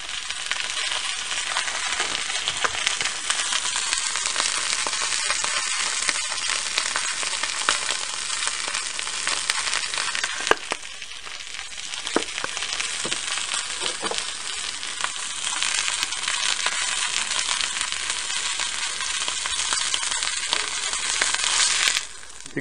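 Montreal-seasoned steak sizzles hard in a cast iron pan, a loud, steady, close-up hiss with crackles and pops that runs unbroken throughout, with no talking.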